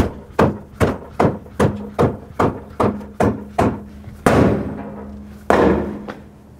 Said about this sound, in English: use a rubber mallet and tap it from the backside, but always hit the tire, not the rim